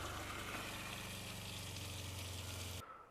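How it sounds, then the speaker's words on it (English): Water gushes steadily into a Torva RV sink in a van conversion, driven by an electric pump whose low hum runs beneath the splashing, close and continuous until it cuts off abruptly near the end. "Oh yeah, running water."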